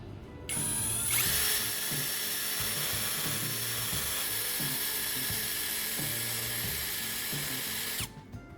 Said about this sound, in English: drilling two holes in the lid, just big enough to pass the two wire ends through